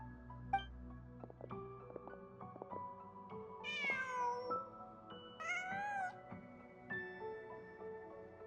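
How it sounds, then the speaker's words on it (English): A cat meows a few times in short, bright calls in the video game Genshin Impact, standing out over a soft game backdrop of steady tones and light effects. "Just a cat."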